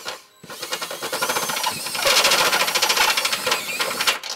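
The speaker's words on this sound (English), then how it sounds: "we're gonna use a step bit to just slightly enlarge it to allow our hardware" A power drill with a step bit grinds through the steel frame of a 2018 Subaru Impreza hatchback to enlarge a hole, a close, loud, rattling whir that builds after a short pause and runs continuously.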